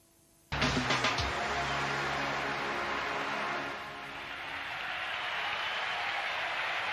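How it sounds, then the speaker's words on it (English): A tennis crowd at the 1999 US Open breaks into sudden loud applause and cheering after a moment of quiet, sustained and broad, easing slightly partway through before swelling again. "So the crowd trying to raise the spirits and raise the energy levels of this young American as Krajicek steps up the line and serves to"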